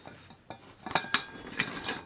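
Metal tilt-up Christmas tree flipped down after cotter pins are set, a series of sharp metallic clanks and rattling clicks close by, with a few bright knocks toward the end.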